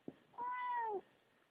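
A house cat gives a single clear, drawn-out meow lasting about half a second, close but fairly soft, with a faint thump just before and otherwise quiet surroundings.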